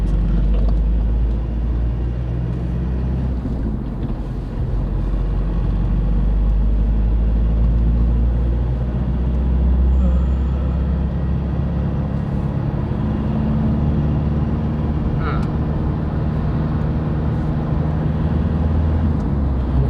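A car driving along a road toward the city in Sakon Nakhon, Thailand, heard from inside as a steady low engine and road rumble throughout, with no talk.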